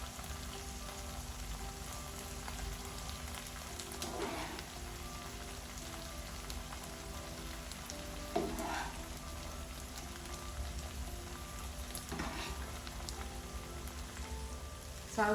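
Cooked rice sizzles in a pan with egg and tomato sauce for egg fried rice, a steady broadband crackle with a few louder scraping stirs spaced several seconds apart, no voices.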